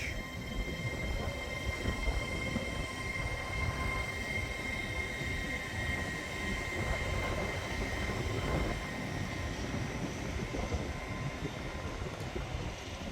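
An LNER train bound for Edinburgh Waverley rumbles steadily as it pulls away from the station, a continuous low roar with faint wheel squeal, no talking.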